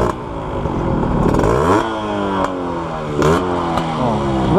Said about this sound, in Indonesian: Jadi suara knalpotnya menurut gua kurang mendukung, John.